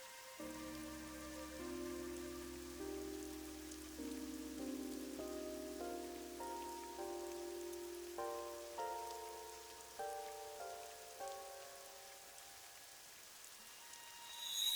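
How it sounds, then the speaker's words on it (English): Rain falling in the video game AI: The Somnium Files, a soft, steady patter beneath a gentle melodic piano-like tune, fairly quiet and even throughout. "It's raining."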